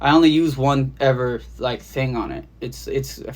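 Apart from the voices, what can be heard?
No everyday noises stand out.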